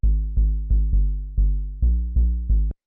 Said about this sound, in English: it's just a triangle wave going through a low pass filter